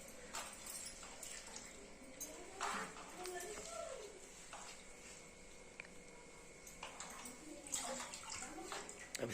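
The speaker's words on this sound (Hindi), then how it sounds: "तसला पे अच्छे से हम धो लेंगे घस के। देखिए कैसे धो रहे हैं।" Moringa leaves are rubbed and washed in water in a metal basin, giving sloshing, scraping and splashing sounds with a few louder bursts. Someone talks over the washing.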